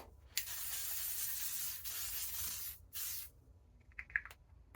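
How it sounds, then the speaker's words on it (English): Makeup setting spray is sprayed in a few short hissing bursts close to the mic, with quiet pauses between them and faint handling noises at the end. "Let me spray it really quick"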